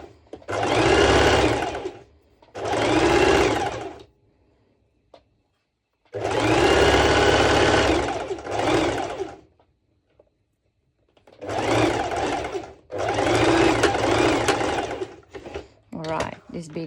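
A sewing machine stitches fabric for a long triangle beach kimono cover-up, running in several loud, close bursts of whirring, rapid stitching with short silent pauses between them.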